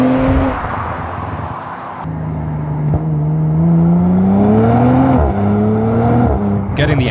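A 2022 Audi RS4 drives along twisty countryside roads, its engine droning steadily with pitch rising and falling as it accelerates and eases off, heard from inside or close by, loud and continuous.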